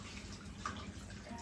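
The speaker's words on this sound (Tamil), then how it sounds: "இந்த கையை கழுவிட்டு வந்துடுறேன்" Tap water runs steadily in a kitchen while hands are washed during cooking, a continuous close splashing hiss with no talk.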